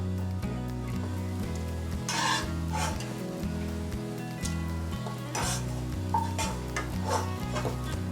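Dates fried in ghee for laddoos give a steady close sizzle, overlaid by repeated scraping and stirring strokes of a spoon against the pan as they are lifted out.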